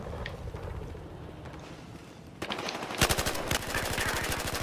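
Battlefield Hardline weapon fire in a PS4 beta match: quiet ambience first, then a fast, loud, rhythmic burst of automatic shots that continues to the end, with no talking.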